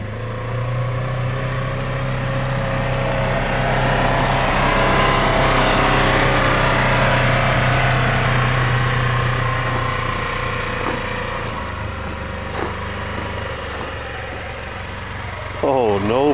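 A Polaris RZR Pro XP drives through snow, its engine droning loud and steady up close for the whole stretch, pitch lifting and settling, with voices talking over it.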